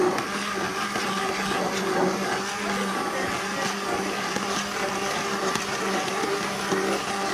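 A kitchen blender runs steadily, whirring and grinding as it purees hot butternut squash soup; the motor noise is loud and continuous, with no talking.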